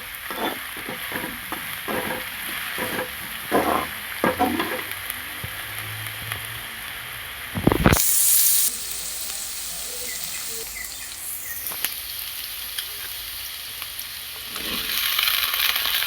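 Onions sauté in a pan with a continuous close sizzle and occasional scraping stirs, a brief louder clatter midway, and faint birdsong somewhere in the background.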